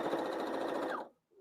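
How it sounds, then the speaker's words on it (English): Sewing machine stitching in a rapid steady buzz, close and continuous for about a second before stopping abruptly, leaving quiet. "But you can hear the sewing machine, right?"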